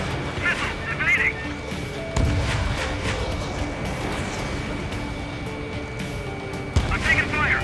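Gunfire strikes a fighter jet in the combat flight game Ace Combat 7, with bursts of rapid impacts and booms over a constant engine roar, while radio voices speak over the action.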